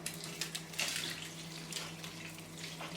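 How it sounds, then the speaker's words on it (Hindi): Water runs from a tap into a pan while Maggi noodles are being prepared, giving a soft, steady splashing trickle in a quiet kitchen with a faint hum beneath and no talking. "और बीच में ऐड करेंगे पानी"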